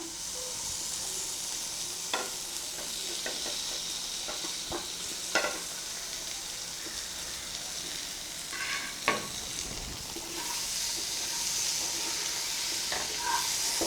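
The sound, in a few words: stirring goat brain frying in a pan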